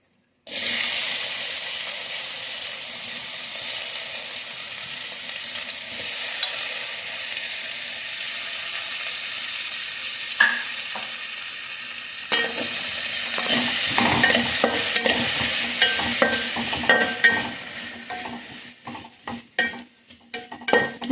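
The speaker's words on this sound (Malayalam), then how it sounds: "ഇനി ഈ എണ്ണയിൽ തന്നെ നമ്മളിവിടെ അരിഞ്ഞു വെച്ചേക്കുന്ന സവാള, തക്കാളി, 3 പച്ചമുളക് എടുത്തിട്ടുണ്ട്, ഇഞ്ചി, വെളുത്തുള്ളി, ഇതെല്ലാം കൂടെ നമുക്കിട്ടൊന്ന് വഴറ്റിയെടുക്കാവേ" Onion, tomato, green chilli, ginger and garlic sautéing in oil, a steady close sizzle broken by bursts of stirring and scraping in the pan toward the end.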